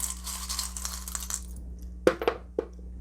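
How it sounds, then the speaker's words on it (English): Small charms are thrown and shuffled in a velvet-lined box, first a soft continuous rustle, then three or four distinct clinking knocks close by. "I'm going to throw your charms. I'm going to shuffle your charms."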